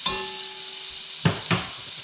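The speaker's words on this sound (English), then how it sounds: "So we're going to get a little butter going in here." Butter sizzles quietly in a pan before steaks are seared, a soft steady hiss with a faint tone at the start, broken by two short clatters of a utensil stirring.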